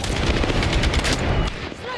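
Dense gunfire in the video game Battlefield 6, rapid automatic bursts crackling loudly and continuously before a brief drop, then more shots with a sharp metallic ring at the end.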